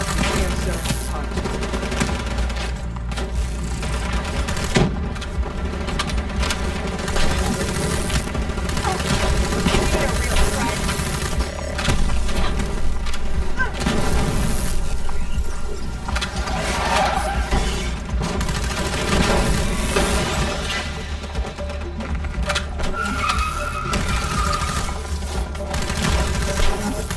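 Rapid machine gun fire in the Call of Duty Black Ops 3 video game, a dense, loud, continuous fusillade of overlapping bursts over a rumbling battle bed, with faint voices beneath.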